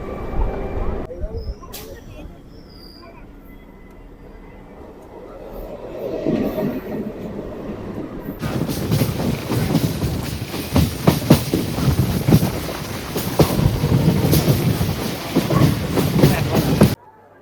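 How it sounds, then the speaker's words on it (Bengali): A Namkhana local train pulls out of platform 17 at Sealdah station, its rumble and clattering wheels building from quiet to a loud, steady rattle, with a voice talking early on. "আমাদের নামখানা লোকাল শিয়ালদা স্টেশনের 17 নম্বর প্ল্যাটফর্ম থেকে বেরিয়ে গেল"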